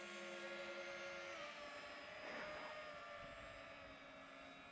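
A Bixler fixed-wing FPV model plane drones steadily overhead with a faint, continuous electric motor whine, swelling briefly as it passes closer before settling back to a distant hum.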